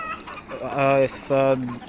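Chickens on a poultry farm cluck in two drawn-out, nasal calls close by, with a brief softer cackle between, loud over a quiet background.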